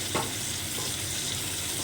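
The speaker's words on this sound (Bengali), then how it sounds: "চিংড়ি মাছটা আমি ভালো করে ভেজে নিচ্ছি প্রেশার কুকারের ভিতরে" Shrimp fry inside an open pressure cooker, a steady, close, dense sizzle with continuous oily crackle throughout and one brief stir near the start.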